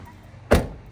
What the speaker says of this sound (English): Now let's see if the door shuts better.